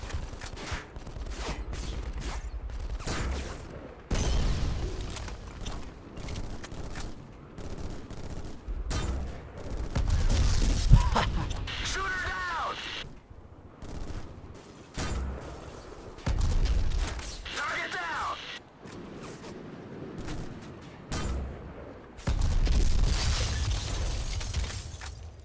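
Bursts of rapid gunfire in the PS2 game Black crackle in repeated volleys separated by short pauses, with sharp impacts and brief whooshing effects between them.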